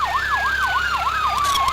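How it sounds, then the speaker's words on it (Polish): An ambulance siren in the Emergency 4 video game wails in a steady rising-and-falling pattern, loud and continuous as the vehicle pulls up. "Jest i ambulans podjechał."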